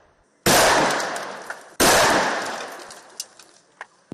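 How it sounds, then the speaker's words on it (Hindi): Two loud, close rifle shots ring out about a second and a half apart, each with a long decaying echo through jungle terrain, during reflex firing practice at an army jungle warfare school, with faint clicks after. "यहाँ पर जो हम फायरिंग की प्रैक्टिस दे रहे हैं वो रिफ्लेक्स 1 और रिफ्लेक्स 2 की फायरिंग प्रैक्टिस दे रहे हैं।"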